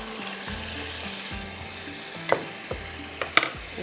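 Goat meat sizzles steadily in a hot pan for palak methi gosht, with a few sharp clinks and scrapes of stirring breaking through the frying hiss.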